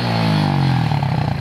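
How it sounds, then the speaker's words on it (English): A motorcycle engine idles and runs nearby with a steady low drone, then turns rougher and slightly pulsing toward the end, with no talking. "the bike starts running fine again"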